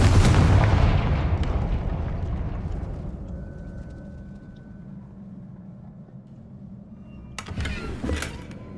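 Confringo blast spell exploding in Hogwarts Legacy: a loud, close boom that decays into a long fading rumble, then a second sharper burst of crackling impacts near the end.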